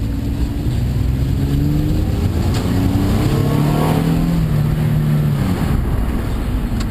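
Car fitted with new coilovers and mounts driving and accelerating, a steady loud engine drone with rising and falling rev tones heard from inside the cabin throughout, with no talking.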